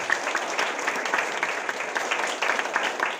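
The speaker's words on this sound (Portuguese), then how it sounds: "E os que podem aplaudir," A church congregation claps at an installation service, a dense, steady round of applause from many hands filling the room at moderate volume.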